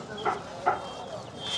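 Chickens at the Broadway pet market in Chennai give a few brief clucks against a faint market murmur.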